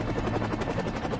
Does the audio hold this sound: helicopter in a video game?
yes